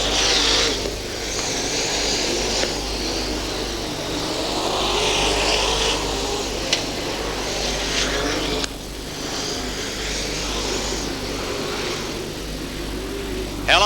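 Ford Falcon and Chevrolet Camaro super sedans race around a speedway oval in a National Super Sedan title A-main, engines roaring loud and continuous with shifting pitch as the pack passes.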